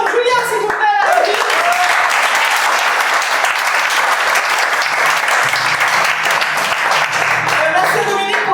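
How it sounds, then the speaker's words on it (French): Sustained applause from an audience fills the hall, dense steady clapping throughout with a few voices and children's speech faintly mixed in at the start. "C'est une applaudissement pour Julia"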